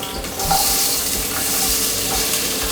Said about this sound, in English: You can drop a little onion and bell pepper in there to see if it sizzles.